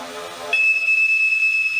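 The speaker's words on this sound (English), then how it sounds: "Get a smoke alarm." A smoke alarm in a UK public information advert starts abruptly as a piercing, continuous high electronic beep that holds steady and loud after a short stretch of quieter background sound.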